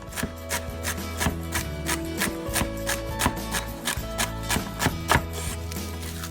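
A knife chops onions and peppers on a cutting board for turkey chili, giving steady, fairly loud rhythmic knocks, roughly two per second, with a faint scraping rub between strokes.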